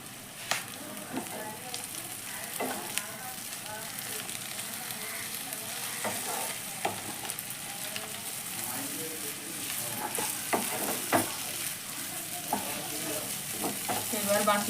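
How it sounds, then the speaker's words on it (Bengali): Chowmein noodles being tossed and mixed into a hot pan, with a continuous close sizzle of frying and repeated scraping strokes of a spatula against the metal; no voices. "এইবার আমি চাউমিনটাকে অল্প অল্প করে দেব আর অল্প অল্প করে মেশাবো।"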